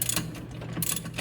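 Ratcheting clicks from a 15mm socket and box-end wrench tightening a bolt on a John Deere ZTrak Z355e mower, short repeated bursts close up with no talk.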